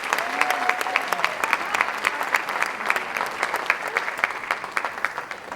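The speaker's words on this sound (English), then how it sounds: "let's give our sponsors a big round of applause" Sustained applause from an audience at a seniors' talent show, dense and steady at moderate loudness, with scattered sharp claps standing out in the crowd.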